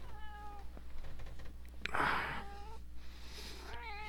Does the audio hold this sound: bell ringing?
no